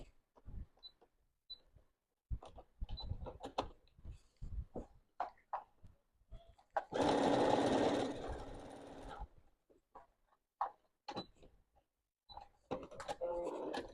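A sewing machine stitches fabric along the presser-foot edge for a duck-shaped toilet-roll holder craft project, running in one steady burst of about two seconds amid quieter handling clicks and taps.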